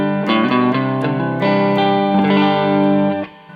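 An electric guitar runs through a LEKATO B-Breaker drive pedal with the tone set low, mildly overdriven chords strummed in a quick rhythmic pattern, loud and sustained before cutting off near the end.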